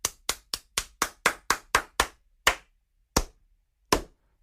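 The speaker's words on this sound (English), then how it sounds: "Go ahead and clap." A single person claps slowly in a played clip, about a dozen sharp, loud claps that start quick and evenly spaced, then spread out with longer gaps near the end, with no talk over them.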